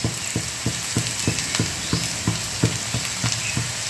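Fresh curry leaves dropped into sautéed onions in a hot pan, a loud close sizzle with regular rhythmic scraping or stirring clicks about three times a second throughout.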